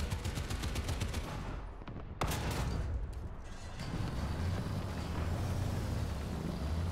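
Tank cannon and machine-gun fire in War Thunder, a Sho't Kal Dalet tank battle, with repeated loud rapid bursts and booms over continuous rumbling engine and battlefield noise, one sharp blast standing out partway through.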